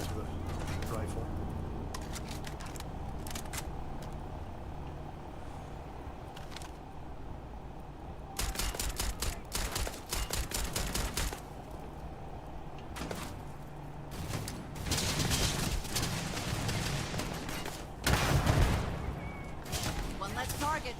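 Rifle gunfire in Starfield, several bursts of sharp shots scattered through a long stretch of combat, with someone talking over and between them.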